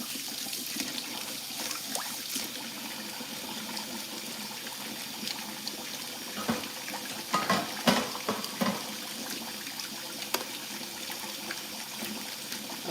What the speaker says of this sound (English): This juicer is really easy to wash.